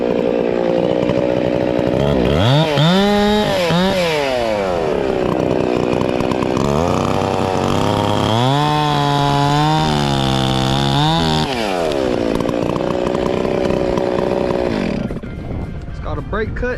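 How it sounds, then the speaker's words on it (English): A chainsaw runs loud and close while pruning a tree, its engine whining up and down in pitch as it bites into wood, continuous and steady before easing off at the end. "Y'all probably won't be able to hear me with the saw running"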